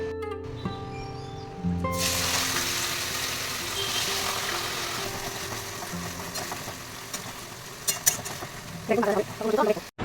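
Quiet talking and clatter, then potatoes drop into hot oil with a sudden surge of sizzling that continues steadily, with a few knocks near the end.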